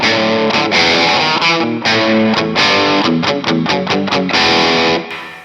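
An electric guitar driven through distortion and effects plays a riff, loud and alone, with chugging palm-muted notes and ringing chords before the final chord fades.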